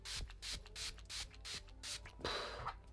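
Tanning water, a 50% darker formula, is misted on in a run of short hissing spray bursts, about eight pumps in quick rhythm, loud and close, the last one longer.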